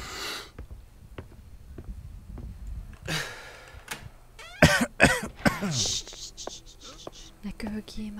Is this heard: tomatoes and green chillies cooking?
no